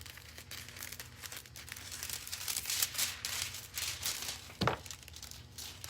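Scissors cutting through decorative foil sheet, a steady crinkling and rustling with sharp snips, close and fairly quiet, one louder crackle near the end.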